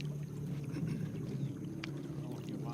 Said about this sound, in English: I heard a boat coming in.